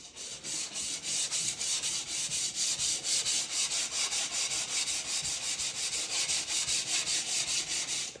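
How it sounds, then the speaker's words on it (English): Steady back-and-forth sanding of melted paint off a wooden window, rhythmic rubbing strokes repeating evenly and close throughout. "I'm just trying to get the melted paint out of it."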